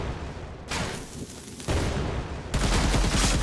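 Sustained enemy gunfire in an Unreal Engine 4 third-person shooter template, dense rapid shots filling the clip and growing louder in two steps, close and harsh with no talking.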